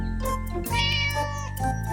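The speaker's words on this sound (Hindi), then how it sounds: "अरे बाप रे, एक बिल्ली!" A cartoon cat meows loudly and up close in a children's animation, a drawn-out, wavering cry followed by a second shorter meow.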